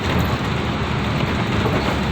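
Steady dense rain drums on a car while driving down a mountain road, a loud continuous wash of patter and hiss with a low rumble underneath, no voices.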